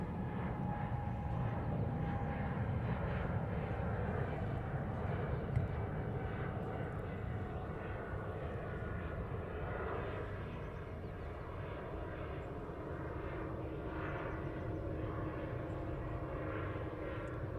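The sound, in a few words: jet airliner departing Heathrow Airport runway 09R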